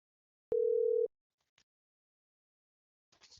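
A telephone tone sounds once, a steady clean beep lasting about half a second, while a call is placed to a property seller in a quiet room, followed by faint small clicks.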